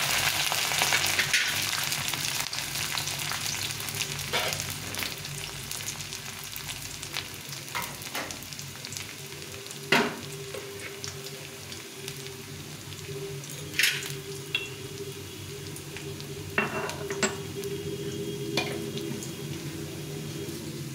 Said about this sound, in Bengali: প্রথমে গাজরটাকে দিলাম, একটু গাজরটা ভেজে নিয়ে তারপরে অন্য সবজিগুলো দেবো।